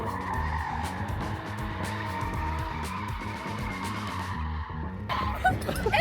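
A car drifting, its tires skidding and squealing in a long continuous screech over the roaring engine, loud and close, swelling briefly near the end.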